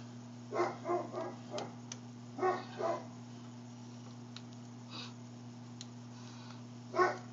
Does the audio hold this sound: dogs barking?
yes